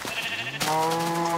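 Sheep in a video game bleat twice in quick succession, loud and close, with a short wavering call followed by a longer sustained one and no talk over them.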